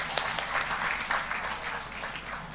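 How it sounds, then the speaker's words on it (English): Audience at an international health conference applauding, a dense, steady wash of clapping from many hands throughout, fairly close and full. "Please give her a huge round of applause for this."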